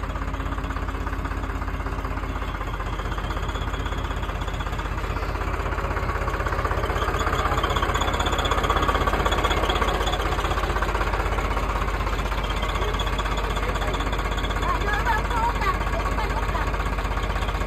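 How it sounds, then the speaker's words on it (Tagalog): A steady, rumbling boat motor idles continuously with a rhythmic chugging throb, loud and close, while voices talk faintly over it. "Narinig ko may nag-andar na motor."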